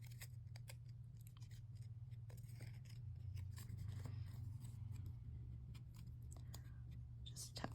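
Scissors fussy cut paper for a floral card, making a quick run of small close snips and clicks over a low background hum, very quiet overall.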